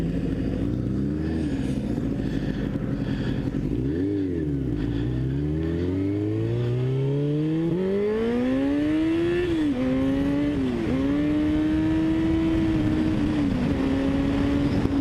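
Yamaha R6 sport motorcycle engine with a touchy throttle revs loudly and continuously, pitch dipping and climbing in repeated sweeps before holding a high, steady whine.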